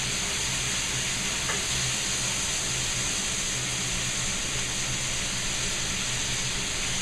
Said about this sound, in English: now you'll cook these vegetables off to give them a nice color